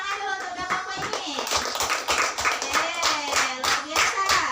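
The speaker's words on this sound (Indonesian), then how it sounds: "Berikan tepuk tangan dulu untuk kelompok ini." A classroom of children claps for a group of classmates, giving a brisk, close run of overlapping hand claps that stays fairly even in loudness.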